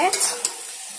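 Fish sizzles briefly in a hot pan, a close hiss with a couple of quick stirring scrapes that fades within a second.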